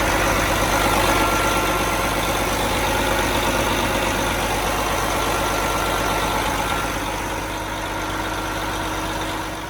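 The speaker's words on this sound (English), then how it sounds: "Okay, I have the engine running." A 1995 Prevost bus diesel engine idles steadily and loudly, a continuous low rumble with a rapid even throb and no voices.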